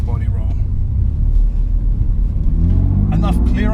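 BMW M2 Competition engine from the 2019 model year blips and rumbles through a downshift on a road drive, loud and close with a throaty low growl that rises near the end.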